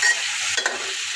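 Chicken sizzles in a hot pan, a close, steady hissing fry over about a second with a small bump of movement partway through.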